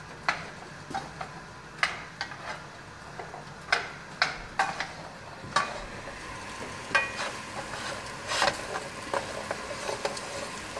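Garlic frying in a pan for spicy chop suey sizzles steadily, with a soft hiss under repeated scraping stirs from a utensil at a loose, uneven rhythm, close up.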